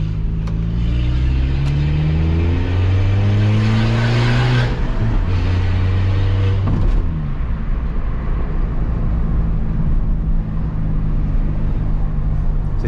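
Peugeot 206 fitted with a diffuser accelerating past a busy roadside gas station at night, a loud close engine rising in revs then passing, followed by a steady background roar of traffic.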